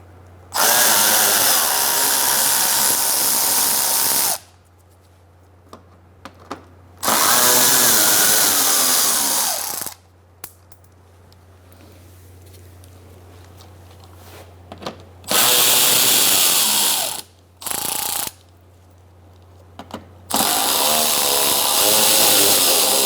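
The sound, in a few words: power tool removing bolts with 8mm socket, Mazda 3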